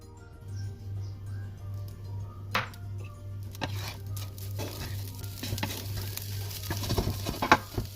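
Mince and chilies sizzle and crackle in a hot pan while being stirred. Scrapes and soft pats come at irregular intervals over a low steady hum.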